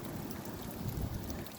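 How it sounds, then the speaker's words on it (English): Wind in a January storm blows steadily against the microphone, a brief, low, continuous rushing buffet with no voices. "That wind gets kicking up."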